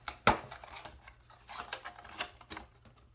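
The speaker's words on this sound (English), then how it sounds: "We're going to cut this part off." Scissors snip and rasp through a cardboard box being cut open at both ends for an art journaling project, one sharp loud cut followed by several softer scraping cuts, close and with no talking.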